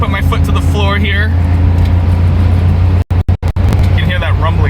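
An automatic Suzuki Cappuccino EA21R kei car's engine accelerates at full throttle, a loud, steady low droning rumble heard from inside the cabin, with someone talking over it and a few brief dropouts in the sound.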